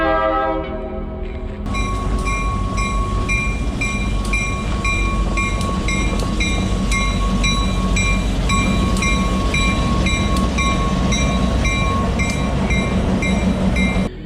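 A train rumbles past close by, a steady loud roar with wheels clacking rhythmically on the rails and a sustained horn tone riding over it.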